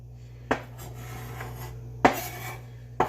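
A knife chops carrots on a cutting board for freezing, three sharp, separate knocks spaced irregularly over a low steady hum, close and fairly quiet.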